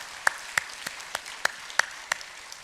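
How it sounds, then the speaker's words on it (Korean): A church congregation applauds during a Sunday worship service to welcome visitors, with soft, steady clapping and a few sharp, distinct claps standing out above the background. "박수로 환영합니다."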